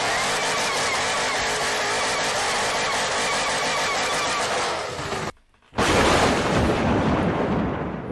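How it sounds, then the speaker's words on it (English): A car doing a burnout, played back as a recording: a loud, sustained roar of engine and tire noise fills the clip, cuts out for a brief silent gap, then returns just as harsh and dense. "no problem doing a burnout that sounds like this"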